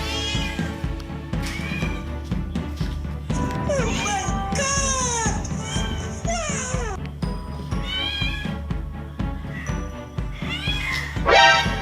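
Several cats meow and yowl repeatedly, loud and close, against a constant busy background.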